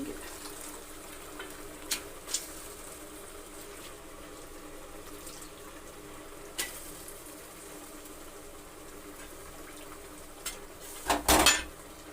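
Sprouted legumes for a sprouted-bean curry are rinsed in water in a kitchen: a steady, faint wash of water with a few soft clinks, ending in a short, louder splashing burst. No one talks.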